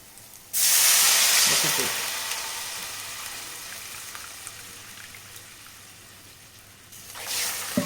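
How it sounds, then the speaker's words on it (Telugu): A loud burst of hissing and sizzling as water is poured onto rice in a hot pot, fading gradually to a steady simmering hiss, with a second surge near the end. "కప్పు బియ్యానికి రెండు కప్పుల నీళ్ళు పోసుకోవాలి"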